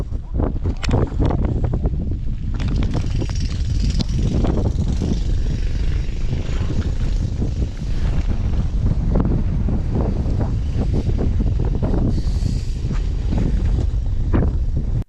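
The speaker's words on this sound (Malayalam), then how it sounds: "ഭയങ്കര കാറ്റടിക്കണം ഈ ഭാഗത്തുനിന്ന്" Strong wind buffeting the microphone in loud, rumbling gusts that roar on without a break at the Parunthumpara viewpoint on the Kumily route, with faint sounds of the open air behind.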